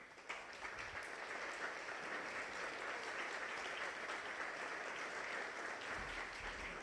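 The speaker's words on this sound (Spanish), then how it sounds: "creo que merecen un aplauso los estudiantes" An audience at a conversation event applauds the students, a steady, even wash of clapping that stays at a moderate level for the whole stretch without talk.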